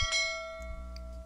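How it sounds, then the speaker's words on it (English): A single short electronic bell ring played by a computer program rings out clearly, then decays with a lingering tone. "There's the bell ring."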